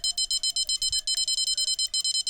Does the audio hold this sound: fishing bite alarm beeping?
yes